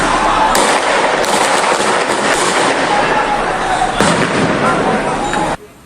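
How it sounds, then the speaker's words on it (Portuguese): Bombs burst in a dense, continuous crackle of sharp explosions during a clash between football fans and military police, loud and chaotic throughout before cutting off abruptly. "Nos vídeos, é possível ouvir a explosão de bombas."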